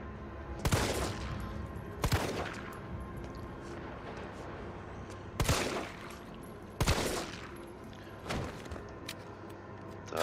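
Five sharp gunshots in the Resident Evil 3 Remake video game on PS4 ring out at irregular intervals, each a loud crack with a short echoing tail, over a quiet hum, with no voices.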